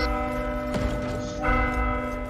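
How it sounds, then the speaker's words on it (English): A church bell tolling in the video game Warhammer: Vermintide 2, a loud resonant strike followed by a long ringing hum, then a second strike, over a dense in-game background. "Time to ring the bell!"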